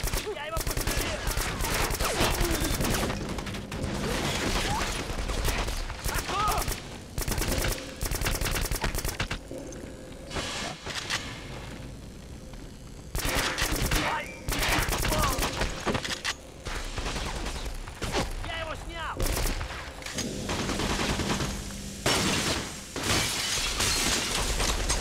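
Intense video game gunfire with sniper rifle shots fired from far off, dense bursts of loud cracks and rattling volleys running almost continuously with only short lulls, with voices sometimes mixed in.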